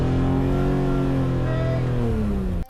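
A BMW M3 engine revs steadily and holds near 5,000 rpm for a noise test, a loud close droning roar with a rising pitch that cuts off abruptly at the end.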